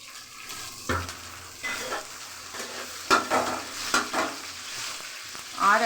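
Onions dropped into hot oil for gonda pachan, bursting into a loud sizzle, followed by stirring strokes and clinks of the utensil against the pan over continuous frying.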